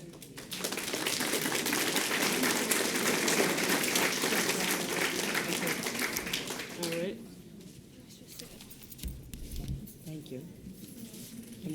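Applause at a school board of directors meeting for an award recipient, steady clapping from the room for about seven seconds before fading, followed by quieter room sounds and talk.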